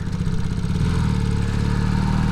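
A 1986 Honda CB250 Super Dream motorcycle being ridden on open roads gives a steady, close engine drone with a throbbing rhythm that carries on without pause and with no talking.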